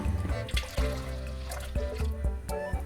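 Water trickles and pours steadily into a pot of grouper miso soup, close by and fairly quiet, over a faint tonal background.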